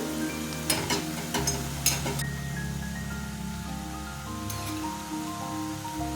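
Ginger, garlic, green chilli and cumin paste goes into a kadai for a low-oil chicken curry, giving a soft, quiet sizzle with a few sharp clinks and scrapes of a spoon early on, then fainter steady frying.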